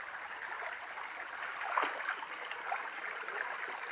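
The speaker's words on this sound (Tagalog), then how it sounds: "So, maliit lang na sapa" Small stream flowing steadily in a rocky outdoor spot, a continuous soft rushing and gurgling close by with no voices.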